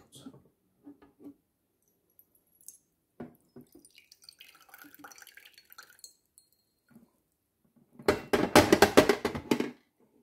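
After scattered faint clicks and handling noises, water pours briefly from a mini dehumidifier tank into a mug for nearly two seconds, splashing and gurgling close by.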